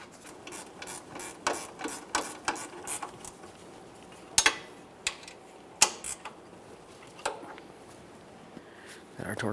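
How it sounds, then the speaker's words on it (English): A torque wrench ratchets in quick, close clicking bursts while tightening caliper bracket bolts on a 2007-2017 Jeep Wrangler rear brake, the clicks coming in uneven groups with short pauses between. "Got our torque wrench down here."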